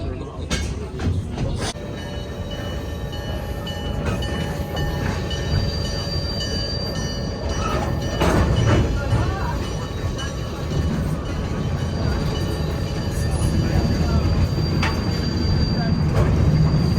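A train runs on rails near Wheeler, Oregon, with a continuous loud rumble, steady wheel noise and high-pitched squealing tones from the wheels throughout.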